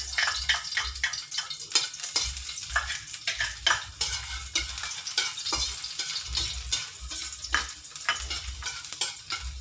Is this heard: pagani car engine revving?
no